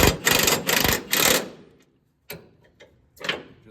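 An open-end wrench ratchets and clicks in three quick rhythmic bursts while tightening a leaf spring hanger bolt, followed by a few sparse metallic taps, close by.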